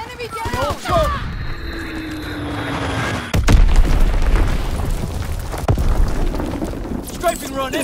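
Call of Duty: WWII bombing run and artillery strikes, heavy booming blasts landing at intervals under a busy battlefield mix of radio voices and clatter, with people talking over it.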